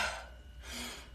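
A single deep inhale during an at-home rhythmic workout, short and fairly faint, with no talking.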